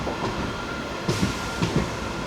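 A Veraval–Rajkot passenger train runs along the track, a steady rolling rumble heard from inside the coach with a few distinct wheel clacks at rail joints, and no talk.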